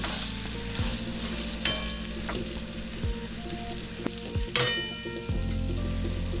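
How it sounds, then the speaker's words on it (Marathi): A spice mix is stirred into homemade chivda of peanuts, coconut and curry leaves in a pan, with a soft continuous sizzle broken by scraping, clinking strokes of a spoon against the pan. "हे मी यात मिक्स करतोय."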